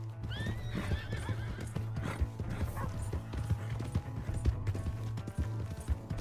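A horse in the video game Red Dead Redemption 2 gallops with rapid, rhythmic hoofbeats, and a loud whinny rings out near the start over a low steady rumble.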